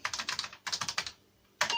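Keys clatter on an Apple II computer keyboard in two quick bursts of close, rapid typing, then a short pause and a final flurry of keystrokes.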